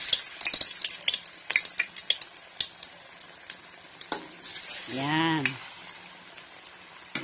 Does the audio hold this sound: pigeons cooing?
no